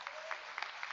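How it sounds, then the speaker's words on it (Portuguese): Church congregation applauding during a service, a brief, faint burst of many hands clapping heard from a distance. "eu quero que a igreja aplaude o Senhor pela vida do pastor Natan."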